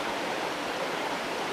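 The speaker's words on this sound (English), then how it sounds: "there's water escaping from the forest in so many directions" Steady broadband rush of water from creeks and streams draining a tropical forest in Litchfield National Park, Northern Territory, continuous and fairly close with no pauses or talk.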